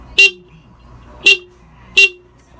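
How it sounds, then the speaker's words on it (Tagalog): Horn of a Honda Wave 125 motorcycle, wired with a diode to a passing light, sounding three short loud bright honks spaced about a second apart, close up with no talk. "ito yung ating horn with passing light na diode lang yung ating ginagamit"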